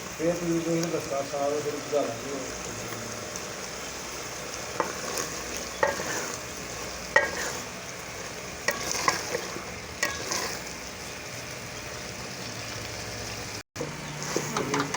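Black chana and rice roasting in ghee in a pot, a soft steady sizzle with intermittent stirring scrapes and clinks, heard under a person talking at times.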